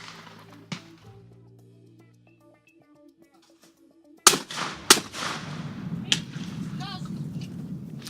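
A sharp shotgun blast rings out at a skeet shooting championship final, then after a quiet stretch a double burst of loud close shots and a clay target breaking follows, with an announcer talking and crowd noise.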